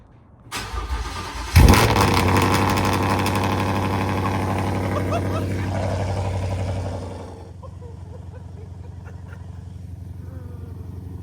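A car engine makes a cold start, cranking briefly and then catching with a loud roar. It settles into a sustained, loud high idle before the revs drop to a lower, quieter idle near the end.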